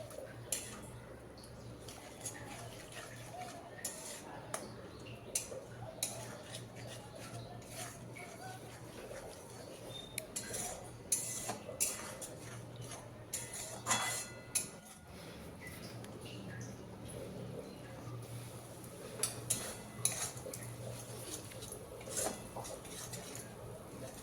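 Poppy seed paste with garam masala and a splash of water, stirred and fried in a pan for a Bengali rohu-and-poppy-seed dish: a steady scrape of a spoon against the pan with scattered light clinks and taps, close by, without talk.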